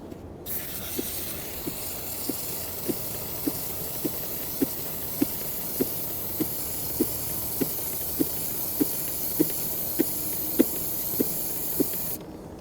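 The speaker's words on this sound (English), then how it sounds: "After you've applied the chain cleaner, you should let the chain sit for a while" Chain cleaner sprays onto a motorcycle O-ring chain in one long, steady hiss of about twelve seconds, with soft regular ticks as the chain turns. Nobody speaks.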